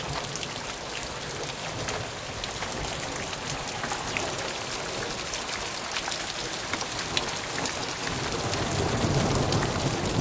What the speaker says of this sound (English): Yeah, it just rained now,